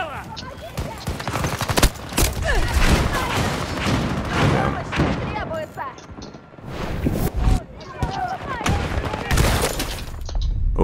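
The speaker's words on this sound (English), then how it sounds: "Oh damn, another explosion." Battlefield 2042 multiplayer combat erupts with dense, rapid gunfire, thudding explosions and shattering impacts layered almost continuously, with players talking over the chaos.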